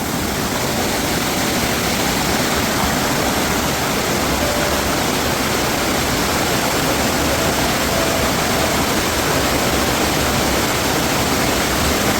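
Loud, constant rushing roar of flowing river water, a dense unbroken wash of noise from start to finish.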